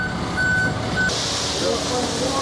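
A concrete truck beeps as it reverses on a building site, a run of steady repeated warning tones over a rumbling engine. Voices are heard beside it.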